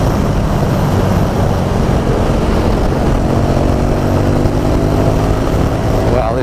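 A 2017 KTM 1290 Super Duke R engine roars loud and steady while overtaking on the road, with dense unbroken drone and wind noise throughout.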